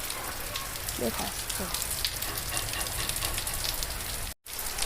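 Monsoon rain falls steadily in Junagadh, a dense continuous patter of drops on surfaces close by, with a brief dropout near the end and a single faint spoken word underneath.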